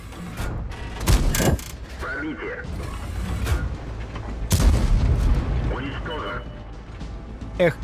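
Heavy tank cannon shots from a Bat.-Châtillon 25 t in World of Tanks boom twice amid mechanical clanks and ratcheting, with someone talking over the game noise.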